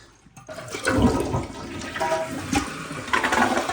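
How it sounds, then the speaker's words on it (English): A two-piece Kohler toilet with a freshly rebuilt tank and bowl flushes once, a loud close rush of swirling water that drains and then settles into a steady refill. "Let's give it a flush."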